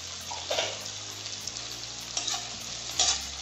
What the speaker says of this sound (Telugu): ఇలా ఫ్రై చేయాలండి. ఇది బాగా ఫ్రై అవ్వాలి.